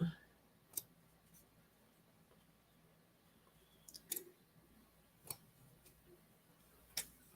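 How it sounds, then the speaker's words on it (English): Sharp clicks from a pair of scissors at a quilting show, five or six separate snaps spaced irregularly over a quiet room background. "these scissors are getting on my nerves"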